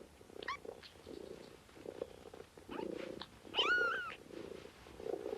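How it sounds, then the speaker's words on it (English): A mother cat lies with her litter of five newborn kittens, less than a day old, in a cardboard box: low steady purring runs throughout, broken by a couple of thin, rising mews. "has produced a litter of 5 kittens in a cardboard box"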